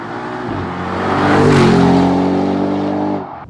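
Audi RS6 tuned Stage 1 to 710 hp launching hard in a drag race, engine roaring loud and close with rising revs through gears, building to a peak then tailing off as it pulls away.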